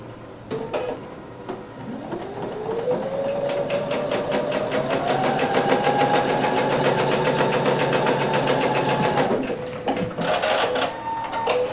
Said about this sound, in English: We are finding our the side that we need to make sure we are stitching on, that we're stitching the proper side.